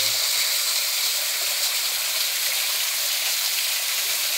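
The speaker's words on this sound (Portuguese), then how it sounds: "Mais um close da cachoeira." Small waterfall in a forest stream, a dense steady hiss of falling and rushing water, close and constant with no other sounds.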